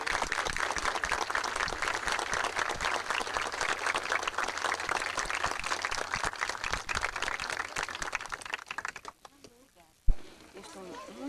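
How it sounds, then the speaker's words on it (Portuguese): Applause fills a memorial tribute ceremony, a dense, sustained crowd clapping that holds steady, then thins out and fades to near quiet, followed by a sharp single knock and light trailing sounds. "Pediria uma salva de palmas a Orígenes Lessa"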